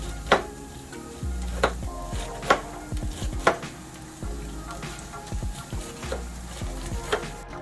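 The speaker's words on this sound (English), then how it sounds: "So I'm gonna start by cutting it in small bits." A knife chops cabbage steadily on a cutting board, sharp irregular thuds over low kitchen background sounds, with no talking.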